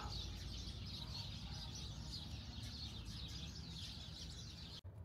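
In a grassy park in Ajman, UAE, birds chirp in quick overlapping bursts over a low ambient rumble, continuous until a brief sharp handling knock near the end.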